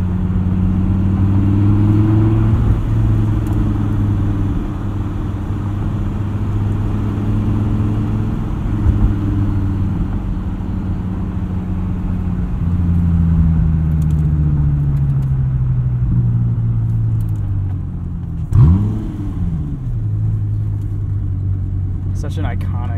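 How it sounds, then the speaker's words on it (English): A 2015 Dodge Viper SRT V10 with side pipes drones with a deep, steady engine rumble, its pitch rising and falling through gear changes and swelling briefly in a sharper rev late on. "Such an iconic sound from these V10s."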